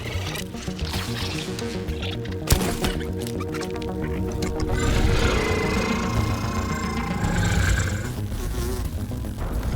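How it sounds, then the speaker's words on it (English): Swarm of wasps in the backyard survival game Grounded, buzzing wings droning and shifting in pitch close by, mixed with game effects and a sharp hit partway through. "These are like support wasps."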